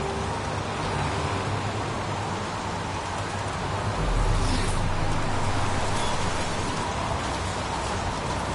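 Steady rain falling in the video game Heavy Rain, a dense, even hiss that holds throughout with a slightly heavier low rumble swelling midway, no voices over it.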